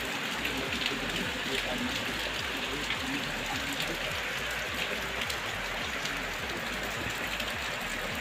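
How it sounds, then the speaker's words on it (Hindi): Heavy rain pours steadily outdoors in a hill village, a dense, continuous hiss of drops hitting surfaces close by with no break across the whole stretch. "बहुत तेज़ बारिश"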